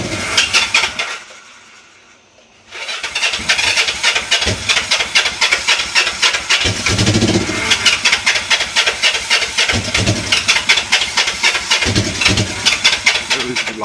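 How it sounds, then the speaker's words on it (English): A motorcycle, freshly carb-cleaned and primed with ether, cranks and sputters to life after a short quiet gap, then runs rough and uneven with loud, pulsing, irregular engine beats close by. "the bike sputtered to life. Very rough, but she sputtered to life."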